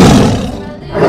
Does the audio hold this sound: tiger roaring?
yes